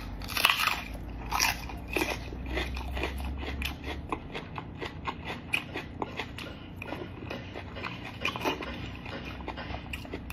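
Raw onion bitten and chewed up close, a series of crisp wet crunches in an irregular rhythm, loud and near with no talk.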